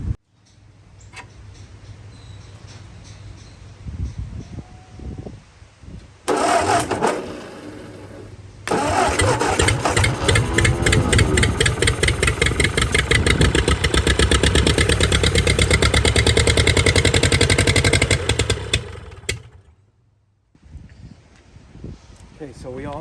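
A 1952 Ford 8N tractor with its key switch bypassed cranks and catches after a few tries, then roars loudly and raggedly at a fast idle for about ten seconds before cutting out, with speech before and after.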